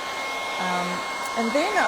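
A hair dryer blows over embossing paste on a 3D stencil, a steady whooshing hum with a faint whine running under a person talking.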